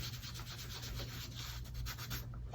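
A sponge rubbed hard on embossed cardstock to apply ink, giving a close, steady scratchy scrubbing with quick back-and-forth strokes throughout, no voices.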